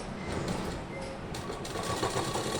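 A sewing machine stitches pants, giving a steady, close motor whir with a rapid needle chatter that runs without a break.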